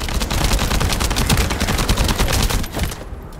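Rapid automatic gunfire in the video game The First Descendant, loud and close, a dense burst of rattling shots in quick succession that holds for a few seconds and then drops away near the end.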